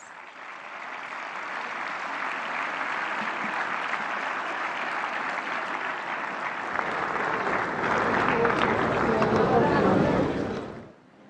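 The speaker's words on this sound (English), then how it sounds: "May I please request you all to let's welcome him with a round of applause." Sustained audience applause welcoming the Prime Minister at the AI Impact Summit, a loud, dense roar of clapping from a large crowd that swells near the end before stopping abruptly.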